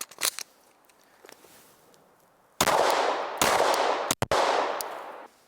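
9mm Norma defensive hollow point rounds at 1312 feet per second striking a West Coast Armor ballistic plate: a few faint pops early, then loud sharp gunshots with harsh broadband crack and ringing decay, several in quick succession.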